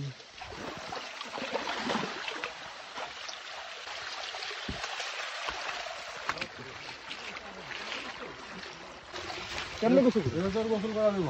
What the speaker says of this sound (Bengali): ঝর্ণার শব্দ পাওয়া যাচ্ছে